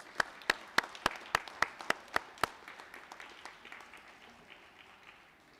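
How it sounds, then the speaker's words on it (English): Sparse applause for faculty members at a summa cum laude ceremony: a handful of distinct, evenly spaced claps from a small group, close and crisp at first, then thinning and fading out. "Let's give our faculty members a round of applause."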